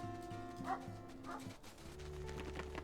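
Dogs barking in the WolfQuest video game: a run of repeated yips and barks, moderately close, over a sustained droning game ambience with faint rustling.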